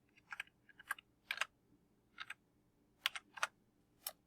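A handful of distinct key presses on a computer keyboard enter a short PIN, each crisp, close click separated by brief irregular pauses in a quiet room.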